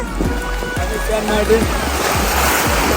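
Sea surf rolling onto the shore at Saint Martin's Island, a steady close wash of breaking waves with rhythmic low thumps, under a loud constant hiss of wind.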